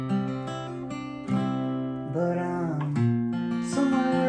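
Acoustic guitar picking out the chorus melody of a country song, with sustained strummed chords and single-note runs that shift pitch steadily, moderately quiet and close, with no voice.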